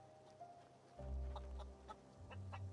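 Chicken clucks in The Outer Worlds video game, several short bursts over a low background hum, moderately close and fairly faint.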